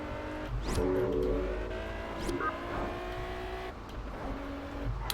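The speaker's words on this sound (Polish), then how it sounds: "Wchodzenie w zakręty na ręcznym z TVR-em to jest dla mnie już wyższa szkoła jazdy." Racing car engine from a TVR Tuscan in the video game Test Drive Unlimited, taking corners on the handbrake, with a steady engine drone, shifting revs and brief tire squeals across the run.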